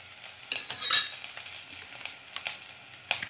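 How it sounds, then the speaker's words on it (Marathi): Garlic and ginger sautéing in a hot pan for veg Manchurian, with soft sizzling and repeated scraping and stirring of a spoon against the pan, close up with no talking. "चांगली परतून घेते।"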